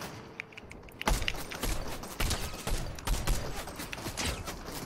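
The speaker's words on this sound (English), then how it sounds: "We're getting shot from all over." Gunfire in Fortnite, repeated sharp shots in quick clusters, fairly loud and close, with a quieter stretch before the first burst.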